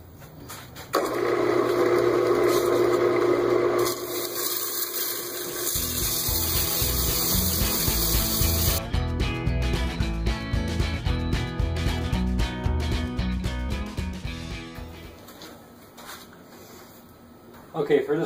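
A segmented pine vase is sanded on a spinning wood lathe, giving a loud, continuous motor whir and a rough, broadband sanding hiss that change texture partway through before winding down near the end.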